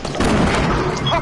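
A grenade explodes in a first-person shooter video game: a loud, rumbling boom with crackling debris over about a second, heard under and between excited voices.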